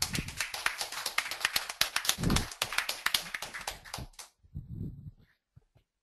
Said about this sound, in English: Give a big round of applause for Neha.